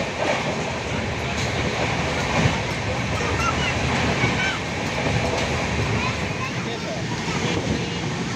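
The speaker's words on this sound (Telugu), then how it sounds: "చాలా స్పీడ్గా ట్రైన్ క్రాస్ చేస్తుంది సింహాదేవి రైల్వే స్టేషన్." A Visakha Express train runs fast through Simhadevi railway station, heard from on board as a loud continuous rumble with rhythmic clickety-clack of the wheels and rushing wind throughout.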